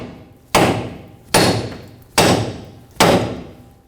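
A hammer strikes a steel front suspension part on a 1997-2003 Ford F-150 pickup, four sharp, loud metallic blows evenly spaced about a second apart, each ringing briefly before dying away.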